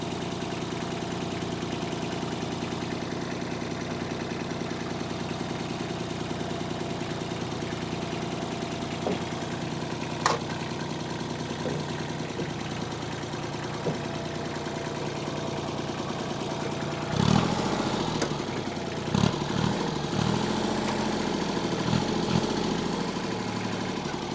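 A farm tractor engine runs under heavy load while straining to lift a wheel, a steady loud drone throughout, with mechanical clunks and knocks toward the end.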